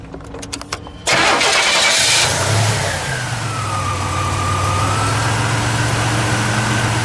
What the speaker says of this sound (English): let's fire it up, shall we? We'll listen to the idle, and we'll start it